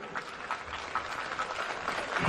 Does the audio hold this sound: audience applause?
yes